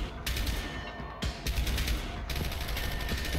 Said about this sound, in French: On me tire dessus, je me fais canarder